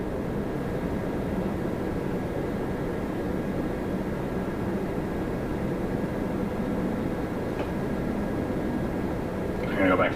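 LOT Polish Airlines Dreamliner jet roaring at Toronto Pearson airport, a steady, loud broadband engine rumble that holds throughout, with radio chatter faintly mixed in near the end.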